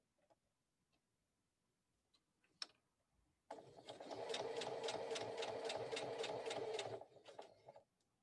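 A sewing machine stitching through boot fabric in one short, steady burst of rapid even ticking and whirring, close and clear, lasting a few seconds amid quiet surroundings.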